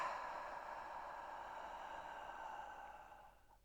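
A single slow, breathy exhale close to the microphone, soft and airy, gradually fading out over a few seconds during a stretching session.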